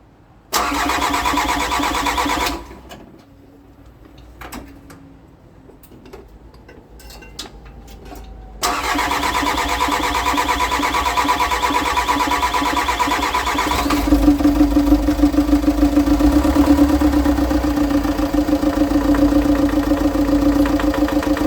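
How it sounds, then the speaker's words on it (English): A Volkswagen Amarok engine, mid-build with new wiring, cranks and fires up, quiets briefly, then catches again and settles into a loud, steady, ticking idle that grows slightly rougher near the end; heard close without talk. "now we're just going to attempt to start the motor, see if it starts"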